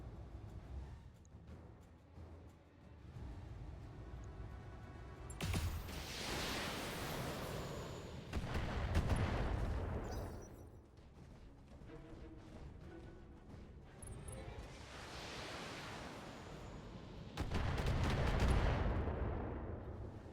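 Heavy weapons fire from battle mechs in the Battletech strategy game comes as several long booming, crashing bursts separated by quieter gaps.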